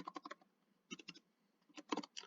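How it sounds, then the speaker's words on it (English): Fast typing on a computer keyboard, quiet close clusters of key clicks in quick bursts separated by brief pauses, no voices. "please bear with me with the typing"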